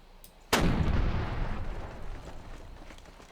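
Big guns firing in the Panzer Campaigns: Normandy '44 war game: one sudden loud artillery blast followed by a long, heavy rumbling decay that fills the rest of the moment, with no voices.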